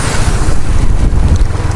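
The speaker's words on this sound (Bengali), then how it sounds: "বাতাসে আমার গাড়ির অবস্থা হাল খারাপ।" Strong wind and rain during a motorbike ride: loud, rumbling wind buffets the microphone in continuous gusts, with no talking.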